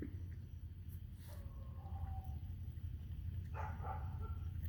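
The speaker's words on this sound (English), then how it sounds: "I'm about to get sick of that dog barking there all day and all night." A distant dog barks a few times, faint against a low steady rumble of background noise.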